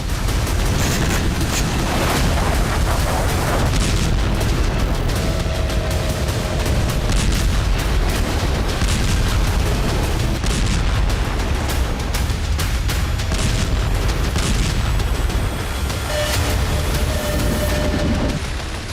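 Russian bombardment of Kyiv, with dense, continuous booms and blasts under constant heavy roar and crackle, loud throughout with scattered sharper impacts.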